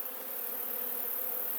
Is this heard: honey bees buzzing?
yes